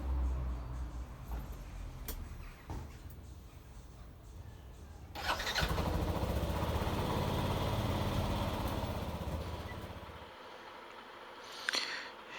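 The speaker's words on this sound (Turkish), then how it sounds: "Şimdi yola çıkalım. Bir de motoru yolda görelim arkadaşlar." Yamaha Nmax scooter, upgraded from 125cc to a 180cc engine, idles and then revs up into a steady, loud engine drone as it pulls away onto the road, easing off near the end.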